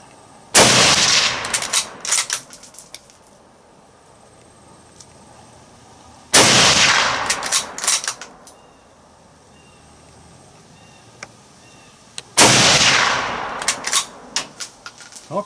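Three loud, close Kar98k rifle shots (BNZ 41) fired outdoors, evenly spaced about six seconds apart, each a sharp crack followed by a long rolling echo and reverberant tail.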